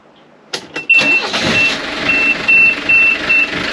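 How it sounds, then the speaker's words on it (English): A boat's engine cranks and catches, then settles into a steady running drone, joined by a repeating electronic beep; no talking. "start the engine"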